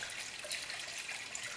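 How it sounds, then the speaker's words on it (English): Antifreeze pours into the radiator of a Jeep Liberty in a steady, close, continuous liquid rush without pause, no voices. "or you put antifreeze in your system, watching the bottle."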